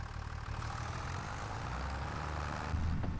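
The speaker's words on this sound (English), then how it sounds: "Alright, we're gonna grab our tractor, start it up." A tractor engine idles in a farming video game, a steady low, fairly quiet rumble that swells slightly near the end, with no talking.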